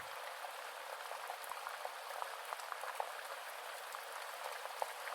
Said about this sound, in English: listens to the sound of that water as it bubbles past her